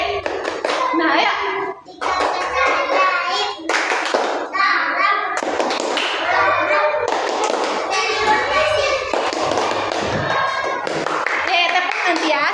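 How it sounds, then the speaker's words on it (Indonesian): A class of schoolchildren claps hands together in bursts of sharp, overlapping slaps, mixed with lively children's voices and a teacher speaking in a classroom. "nanti akhirnya tepuk tangan rame-rame"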